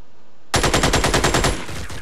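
Automatic gunfire from a soldier laying down suppressive fire in the tactical game Xenonauts, a sudden loud burst of about a dozen rapid, evenly spaced shots that then fades, no talk.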